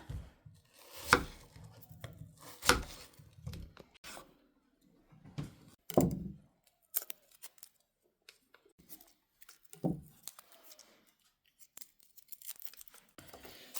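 Onions are peeled and chopped by hand on a cutting board, with crisp papery tearing and several sharp knife strikes separated by quiet pauses, close and fairly soft.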